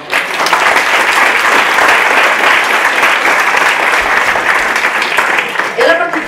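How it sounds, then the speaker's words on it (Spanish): An audience at an astrology congress applauds a speaker with loud, continuous clapping from many people that stays even throughout, easing slightly near the end where a voice briefly cuts in. "yo creo que esto se merece um, un aplauso para ti"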